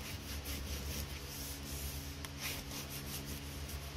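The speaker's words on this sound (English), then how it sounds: "you want to take your bone folder and just rub it on all this nice and flat" Bone folder burnishing a chipboard cover flat, heard as soft continuous rubbing strokes in a steady rhythm, close and quiet, over a low background hum.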